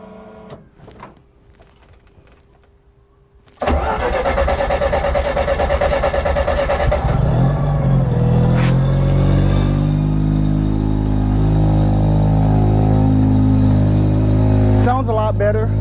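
A Mazda RX-7 rotary engine cranks over after a quiet lead-in, then catches and settles into a loud, close idle with a rising rev partway through, and a voice speaks briefly near the start.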